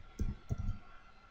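Two quick, close computer mouse clicks in a Photoshop editing session, crisp and evenly spaced, alone with no talking.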